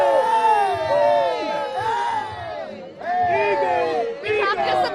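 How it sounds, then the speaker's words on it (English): Philadelphia Eagles fans celebrate a Super Bowl win, a close crowd of voices yelling, whooping and cheering in waves, with shouts overlapping throughout. "Hundreds and hundreds of fans have been here cheering on their team all night long"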